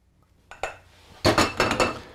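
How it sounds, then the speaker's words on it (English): Cooked black beans spooned onto a plate, a couple of soft taps followed by a quick run of sharper clinks of spoon against the dish, close and clear. "I'm going to put them on a plate here"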